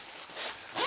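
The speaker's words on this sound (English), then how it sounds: "zip these down," Kodiak Canvas Flex-Bow Deluxe 10 x 14 canvas tent window zipper being pulled down, one short close rasping zip rising at the end, quiet and alone.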